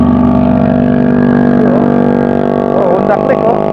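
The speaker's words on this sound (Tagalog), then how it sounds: "Itong lalakas ng mga motor nila dito oh." Loud motorcycles, including a Honda Click scooter with its exhaust muffler removed, drone and rev along a winding uphill road near Tagaytay, a continuous close engine roar with brief throttle rises.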